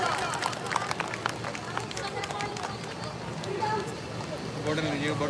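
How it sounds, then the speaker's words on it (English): Applause and cheering from an audience at a school primary wing Janmashtami celebration, greeting a little girl dressed as Krishna; dense, steady clapping with crowd chatter continues throughout. "All of you, give her a round of applause."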